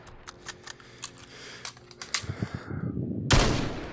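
Virtual gunshots from a VR shooting game played on a Meta Quest 2 with a sniper gunstock sound as scattered clicks and muffled shots, ending in one loud blast followed by a fading tail.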